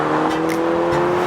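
A 2020 Mercedes-Benz GLC 300 driving off, a steady, close engine hum with tire and road noise, brief and unbroken, with no talk.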